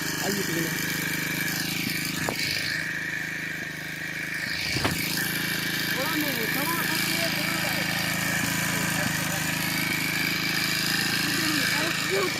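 The small engine of a pesticide sprayer pump runs continuously at a steady, loud, buzzing pitch, close by, with speech over it.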